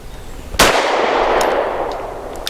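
A single loud pistol shot from an all-steel SAR USA P8L firing Blazer 115 grain aluminum-case ammunition: one sharp, close crack with a long ringing decay outdoors, plus a faint tinkle near the end.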